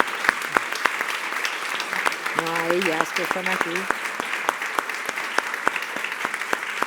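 Audience at a Madrid history lecture on female power at the Habsburg court applauds with steady, close clapping throughout, while a speaker talks over it in Spanish.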